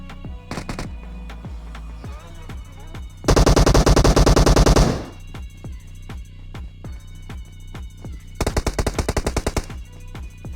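Machine gun fire in the PUBG video game: sharp gunshots scattered across the scene, with two long rapid automatic bursts, loud and close.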